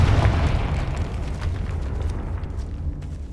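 A Confringo fire spell from Hogwarts Legacy bursts into a loud, booming explosion that opens at full force, then rumbles and slowly fades over a few seconds with no speech.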